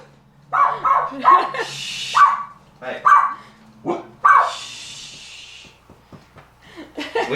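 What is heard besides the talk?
dogs barking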